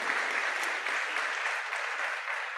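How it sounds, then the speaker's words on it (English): A conference audience applauds steadily, a dense even clatter of many hands filling the room without pause. "let's give them a round of applause"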